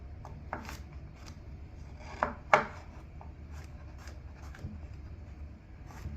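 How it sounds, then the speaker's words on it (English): A knife minces garlic on a cutting board in a home kitchen, giving a few light, irregular chopping taps and scrapes, two sharper strikes near the middle, all quiet and close with no talking. "Mince this garlic up."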